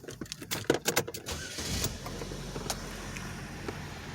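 A 2011 Chevy Malibu with a new battery and a cylinder 2 and 4 misfire starts up: a few clicks and rattles, a quick crank, then the engine catches and settles into a steady close idle.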